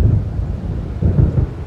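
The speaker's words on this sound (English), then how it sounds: "It seems there's a storm coming." Deep, rumbling thunder rolls from an approaching storm in the video game Alan Wake, loud and heavy, swelling in two surges with a low continuous roar between them.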